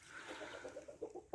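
One of eight roosters on a farm yard gives a short, soft run of low clucks close by, ending in a slightly louder note, with no talking.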